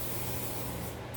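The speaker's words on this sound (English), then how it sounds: "you need your trusty Costco cooking spray, and you want to give" A continuous hiss of aerosol cooking spray onto a grill, steady and close for just over a second, with no voices.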